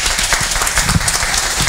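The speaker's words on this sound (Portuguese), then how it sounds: "Giovanni, vamos aproveitar aqui e dar uma salva de palmas pela palestra, que foi muito boa." An audience applauding after a lecture on pension reform, a steady loud wash of many hands clapping that fills the whole moment.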